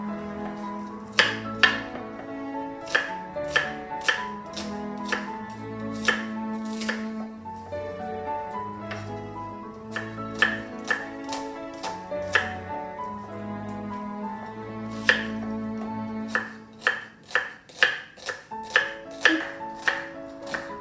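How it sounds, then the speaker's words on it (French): A knife chops through onions on a cutting board while making onion soup, with steady rapid crisp strikes in irregular bursts and brief pauses, close and clear with no talking. "ونكمل البصله ديالي راه كلها قطعتها كيف ما كتشوفوا"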